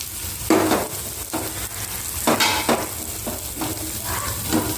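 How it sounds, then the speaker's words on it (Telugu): Chopped ivy gourd pieces and onions frying in hot oil, a close, continuous sizzle broken by several louder scraping bursts as the pan is stirred, with no talking. "ఇప్పుడు కట్ చేసి పెట్టుకున్న దొండకాయ ముక్కలు వేసేసుకుందాం"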